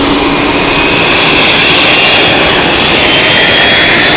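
A 25-year-old Boeing 757 jet airliner in from Reykjavik roars loudly and steadily at Zurich Airport, a dense continuous engine rush filling the entire stretch with no pauses.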